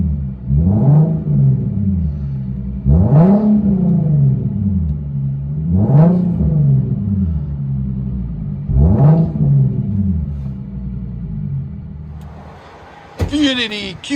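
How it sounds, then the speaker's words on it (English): A 2014 Infiniti Q60 S coupe with a 3.7L V6 and straight-piped true dual exhaust revs four times, each rev a loud, close rise and fall over a steady idle. A short clunk sounds near the end. "There's the Infiniti Q60 S Coupe. Straight pipe, true duals with 5-inch blue flame tips."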